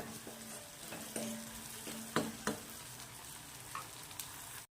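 Soft tomatoes sautéing in a pan for a Maharashtrian tur dal and onion dish, a steady close sizzle broken by several louder scrapes and stirring knocks.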